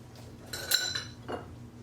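A spoon stirs zest into soup in a pot, making a few quick, soft metal clinks and scrapes against the side. The sounds are close and brief, with nothing else heard.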